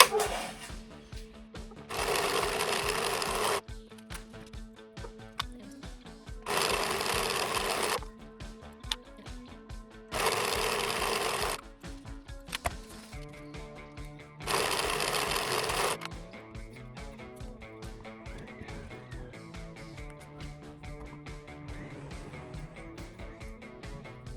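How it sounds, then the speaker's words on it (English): A serger sews along the marked hem of linen pants in four sustained loud bursts of whirring stitching, separated by pauses filled with quieter handling rattles and clicks, close by. "I'm just going to go ahead and follow it along with my serger here."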